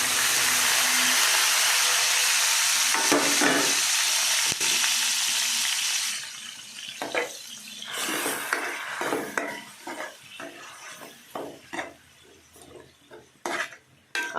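Mango pieces fry in oil with a steady, loud, close sizzle for about six seconds, then the hiss fades into quieter crackling under repeated scrapes and clinks of a spoon stirring the pan.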